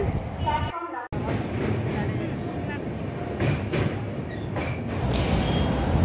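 A train at Jajpur Keonjhar Road station gives a steady, loud rumble. Voices, likely a station announcement, can be heard over the rail noise.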